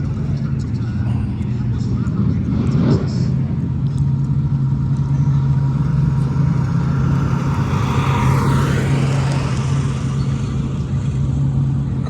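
A nostalgia drag racing car drives past at a drag strip meet, a steady engine drone building into a swelling pass around the middle, with crowd noise and a voice over the rumble.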